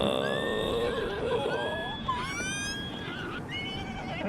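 Horse in Zelda: Tears of the Kingdom giving a loud, close, wavering whinny that rises and falls over a few seconds, followed by a second shorter neigh, with background game ambience underneath.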